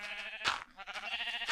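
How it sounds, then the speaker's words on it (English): Sheep bleating in a video game: several close, wavering bleats follow one another in quick succession, with a brief noisy thump between them. "Oh god, sheep everywhere!"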